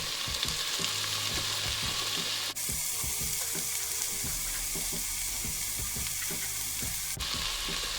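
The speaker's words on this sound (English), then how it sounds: "So I'm going to add in my celery." Chopped celery hits hot olive oil in a pan and sizzles loudly and continuously, a dense close-up crackle with occasional stirring knocks and no speech.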